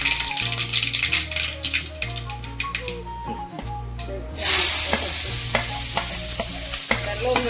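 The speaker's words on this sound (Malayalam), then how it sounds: "ആ കോളിഫ്ലവറിലേക്ക് നമ്മൾ അരിഞ്ഞു വെച്ച തേങ്ങ, സവോള, പച്ചമുളക് എല്ലാം മിക്സ് ആക്കിയിരിക്കുകയാണ്" Cauliflower with chopped coconut, onion and green chilli is stir-fried with mustard seeds, making rhythmic spatula scrapes and rattles against the pan over a sizzle that grows louder and hissier partway through.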